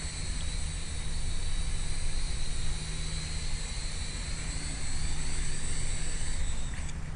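A Blade mQX RC quadcopter hovering as it comes in for a spot landing on carpeting indoors, a steady high-pitched rotor whine with a droning hum beneath, continuous and fairly close, with no talking.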